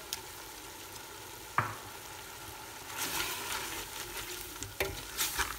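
A spoon stirs fish soup in a pot, giving a faint, soft scraping that continues under a steady background hiss, with a few brief knocks against the pot.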